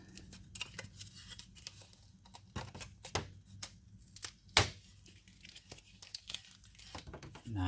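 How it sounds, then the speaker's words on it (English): Tape peels off a JB Weld–repaired aluminum chainsaw part in a series of close, crackly tearing and crinkling bursts, uneven in rhythm, with one sharp louder rip near the middle. "We can take that tape off."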